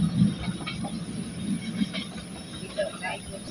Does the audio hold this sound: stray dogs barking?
no